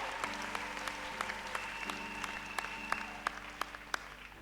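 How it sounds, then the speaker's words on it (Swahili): A church congregation applauds during a Wednesday evening service, a steady wash of clapping with sharper individual claps standing out, backed by a sustained organ or keyboard chord. "Tunapigia Bwana mkono wa shangwe kubwa."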